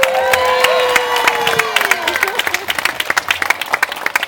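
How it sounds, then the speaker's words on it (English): Wedding guests break into a round of applause, cheering and whooping over the claps at first, then settling into scattered clapping that tapers off, close and fairly loud. "So a huge round of applause just for your effort."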